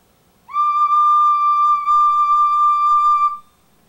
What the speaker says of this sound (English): to get a basic sound out of your recorder, you want to put just a little bit in your mouth and blow very gently